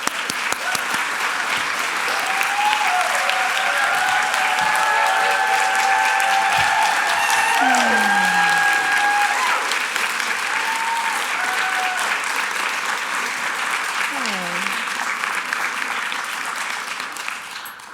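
An audience welcomes a speaker to the stage with sustained, loud applause that stays dense for the whole stretch and fades slightly at the very end, with a few cheers and whoops rising above it.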